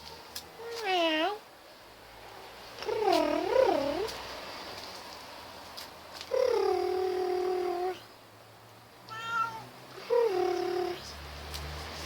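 A cat meows four times in drawn-out, wavering calls separated by short pauses, fairly close and clear over a quiet background hum.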